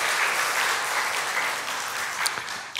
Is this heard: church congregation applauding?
yes